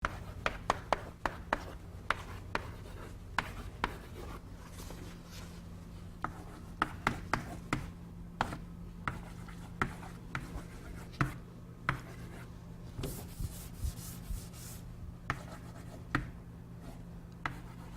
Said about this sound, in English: So let's briefly draw the pipeline diagram for something like